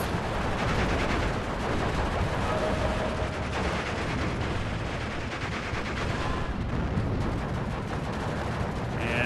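Dense battle din from the WWII strategy game Steel Division 2: a grenade blast amid steady, loud gunfire and artillery-like rumble, continuous without pause, with no voices.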